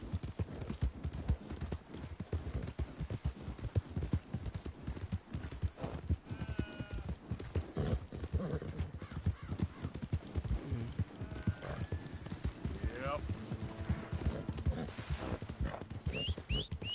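Horse hooves clip-clop steadily and close in Red Dead Redemption 2, a continuous rhythmic trot under game ambience with a brief whinny and occasional tonal game sounds.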